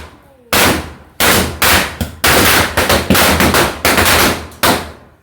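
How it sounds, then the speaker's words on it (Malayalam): Firecrackers burst for the Vishu festival: a loud, close string of sharp cracks in quick irregular clusters, separated by short gaps and fading tails. "നമ്മൾ ഫുഡ് കഴിച്ചിട്ട് ഇറങ്ങാൻ നേരമായപ്പോൾ പടക്കം കൂടി പൊട്ടിച്ചിട്ടോ"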